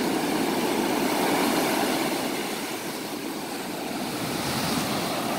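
Ocean surf rolling onto the beach at Ventura, a dense continuous roar of breaking water, loud and close, with no voices.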